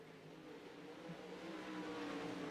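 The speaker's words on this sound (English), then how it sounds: "Almost sound like stadium super trucks going down the front stretch there." Race cars roar down the front stretch of a bumpy dirt track in a racing video game, a steady blended engine drone that swells slightly louder toward the end, with no talking.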